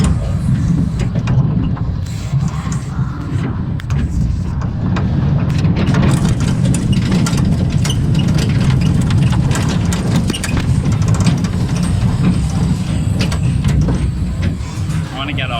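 A brand-new London rollercoaster runs another lap, a steady loud rumble of wheels on track with rattling clanks and mechanical hiss, continuous and close throughout.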